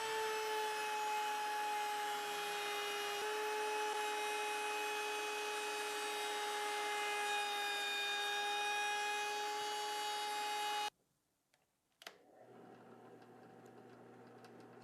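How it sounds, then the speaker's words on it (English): A flush-trim router bit with a top bearing cuts a guitar body top to shape, giving a loud, steady high-pitched whine for about eleven seconds before it stops abruptly and a quieter hum follows. "I'm going to use this flush cutting router bit that has its bearing on the top"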